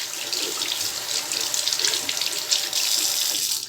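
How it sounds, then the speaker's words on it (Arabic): A kitchen or bathroom tap runs steadily, water splashing onto a beauty blender sponge being wetted for cleaning, a close, continuous hiss with no talking. "دونك نشعل الماء، نشمخها شويه"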